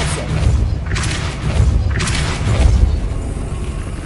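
Depulso spell cast in Hogwarts Legacy, heard as two or three deep booming thumps with rushing whooshes spaced about a second apart over a steady low game ambience.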